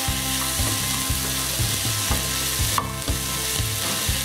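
Small shallots sautéing in a pan for pearl spot fish, a steady close sizzle broken by regular stirring scrapes in a repeating rhythm, with no talk.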